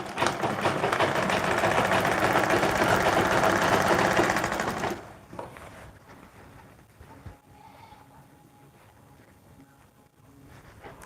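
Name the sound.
sewing machine stitching fabric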